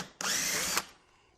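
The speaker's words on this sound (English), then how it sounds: "I'm going to drill a couple of pocket holes near the bottom" A power drill boring a pocket hole near the bottom of a cabinet base whines loudly and steadily for about half a second, then cuts off and leaves a faint fading tail.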